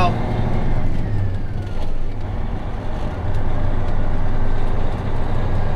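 A truck engine, warmed up after a pre-trip check, pulls away with a steady, loud low rumble that runs continuously and swells slightly toward the end, with no talk over it.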